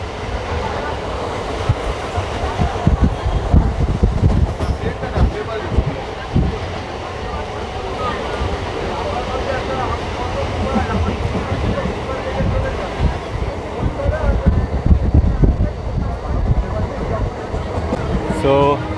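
A nearly empty Ranaghat–Bongaon local train runs close to Bongaon station, with a steady loud rumble and rattling clatter of the carriages throughout, and a voice talking over it.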